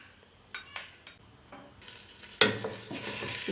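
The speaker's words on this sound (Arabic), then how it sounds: "نخليوها تقلى مزيان" Ground fenugreek frying in a pan: a few scraping stirs of a spoon against the pan come first, then a sudden loud sizzle as the spice hits the hot oil, with continued stirring beneath it.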